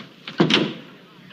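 An interior door on a 1960s Western television set opens with a short wooden knock and rattle as someone enters, a single quick sound heard in a quiet room.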